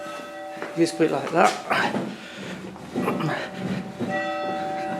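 A church bell struck inside the bell tower of St Mary's Church in Honley keeps ringing with a sustained, steady metallic hum through the whole clip, and seems struck again near the end. Nearby voices talk over it.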